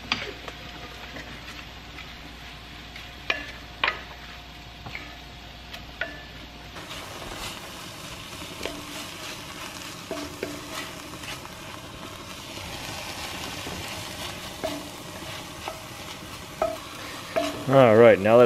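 Beef for a stew browns in a pan with a low, steady sizzle, joined by scattered ticks and clinks of utensils and a brief louder scrape near the end.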